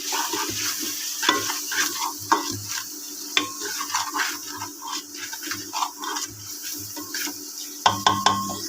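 Pav bhaji masala is stirred into cooking vegetables in a pan, giving irregular scraping and clattering strokes over a soft sizzle, with a sharper clank of the utensil near the end and no voices.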